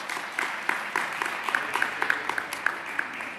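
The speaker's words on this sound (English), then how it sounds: "Let's give him a round of applause." Steady crowd applause for Senator Schumer at a press event with Mayor de Blasio, with scattered sharper claps, a continuous wash of hands clapping at moderate loudness throughout.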